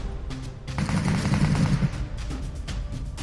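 Rapid bursts of gunfire from the battle royale video game PUBG, a dense volley of shots in the middle with scattered single cracks before and after, fairly loud with no talking.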